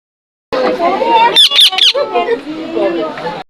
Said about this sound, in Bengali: টিয়া পাখিটা মনে হচ্ছে বরকে হলুদ পরানোর জন্য ক্যাস ক্যাস শব্দ করতেছে।